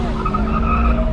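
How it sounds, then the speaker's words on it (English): A Mini car doing a handbrake turn, its tyres skidding in a short, sustained screech over a low engine drone, close by. "That was a good handbrake turn from the mini."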